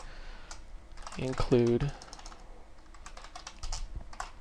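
Computer keyboard keys clatter in quick irregular taps while someone types code, a gamer keyboard configured for Call of Duty Black Ops, with a person speaking briefly over the typing.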